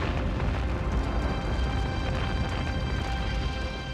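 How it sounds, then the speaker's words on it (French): A flagship blows up at night in Aboukir Bay, a dense, loud, sustained rumbling blast with continuous broadband roar and crackle throughout, heavy in the low end, with no pause. "L'explosion qu'il envoie au fond est si forte qu'on l'entend à 35 km"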